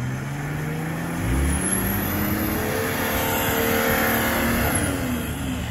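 A car engine revs hard and steadily as the driver keeps on the gas, trying to drive out of a spot near Radostowa and the Siedmiomilowy forest; a loud, continuous, strained roar with shifting pitch, close by.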